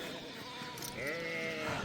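A sheep bleats with a wavering, drawn-out cry partway through, fairly faint against a soft outdoor background.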